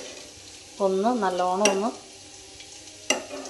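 A spoon stirs fish curry made with thick coconut milk in a frying pan, giving a couple of light metallic clinks. Someone speaks briefly between them over a quiet kitchen background.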